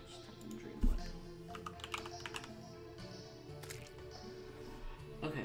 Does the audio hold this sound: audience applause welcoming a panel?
no